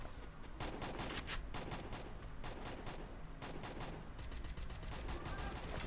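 Gunfire from the mobile battle game Free Fire comes in rapid automatic bursts separated by short pauses, sharp cracks repeating fast and fairly close, with no talking.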